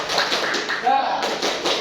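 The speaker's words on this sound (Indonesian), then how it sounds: "Tepuk semangat semuanya" A classroom of students does a rhythmic spirit clap, quick patterned bursts of hand claps close by, mixed with voices chanting and talking over them.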